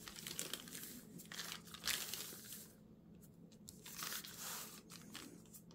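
Paper being folded and creased by hand while making an origami demon figure, a close, faint run of crinkles and soft crunches with quieter pauses between.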